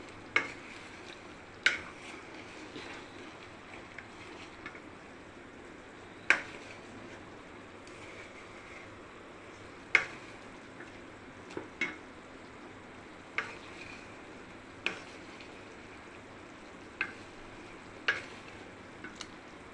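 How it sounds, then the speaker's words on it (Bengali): Jaggery melting and cooking in a pan for mango pickle, a soft low simmer under occasional sharp clicks of a spoon against the pan as it is stirred. "গুড়টাকে ভালো করে গলিয়ে নেব"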